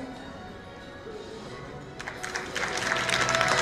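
At the Kazan Islamic Clothes 2018 fashion festival, an audience bursts into applause partway through, rising from a quiet murmur with talk into dense, building clapping that grows louder toward the end.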